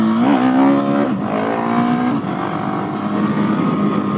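A KTM 701 supermoto motorcycle's single-cylinder engine revs up loudly and steadily through the gears, its pitch climbing, dropping at each shift and climbing again, close up with no talk.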